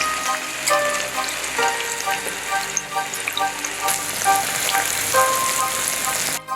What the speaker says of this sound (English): Place the fish gently into the oil. Don't fling the fish in the oil and allow it to fry until it's golden brown